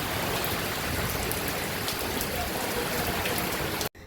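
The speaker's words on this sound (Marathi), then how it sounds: "पहिला पाऊस. बघा झाडं कसे हालतात." The season's first heavy rain pours down with wind shaking the trees, a dense, loud, unbroken wash of drops that cuts off abruptly just before the end.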